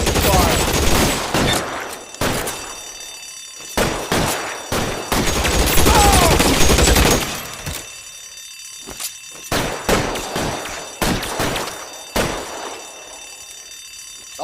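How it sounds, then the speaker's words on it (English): Gunfire erupts in L.A. Noire, with loud bursts of rapid shots in the first half, then separate sharp volleys and single cracks spaced through the rest, all close and intense. "I'll lay down some suppression fire."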